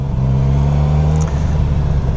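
A 2021 Suzuki Katana motorcycle engine runs steadily close by with a low, even drone, held at a constant throttle before easing off slightly partway through, with no talking.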